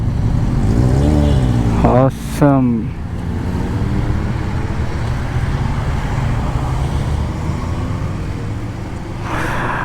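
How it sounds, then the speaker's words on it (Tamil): A group of superbikes pulls away from a Cafe Coffee Day stop on a weekend ride, engines revving in a brief rising burst over steady road rumble, with a voice talking near the start. "எல்லா பைக்ஸ் மூவ் ஆக ஆரம்பிச்சிருச்சு."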